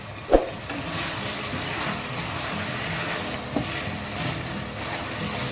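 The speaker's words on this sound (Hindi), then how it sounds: "साबुत धनिया, काली मिर्च और सफ़ेद ज़ीरा, थोड़ी सी दालचीनी, सब्ज़ इलायची 2 अदद, ये मैं इसके अंदर डाल दूँगी" Whole coriander, black pepper, cumin, cinnamon and green cardamom crackle in hot oil in a karahi for mutton karahi. A soft, steady sizzle runs throughout, with a sharp utensil clink at the start and another light knock partway through.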